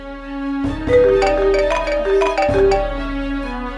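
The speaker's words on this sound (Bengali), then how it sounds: "এই ফোনে এখন আরেকটা কল আসবে" An incoming call sets off a mobile phone ringtone: a loud, close melodic tune of bright notes that restarts partway through, with nothing else audible.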